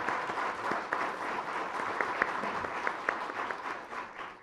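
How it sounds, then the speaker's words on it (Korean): Audience applause at a Korean policy debate forum on social welfare jobs, a steady, dense clapping from a hall crowd sustained throughout at moderate level, with scattered sharper individual claps standing out. "여러분이 박수로 한번 도장을 찍어 놓으시는 게 좋겠습니다."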